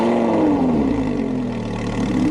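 A Lamborghini Huracan LP610-4 engine runs at a steady, loud drone with a slight dip in pitch, heard close and alone.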